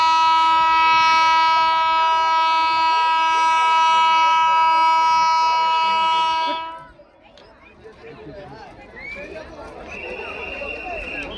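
A train arriving at Jayrambati village during a festive celebration blows a long, loud, sustained horn, then gives way to a lower rumbling din with crowd voices.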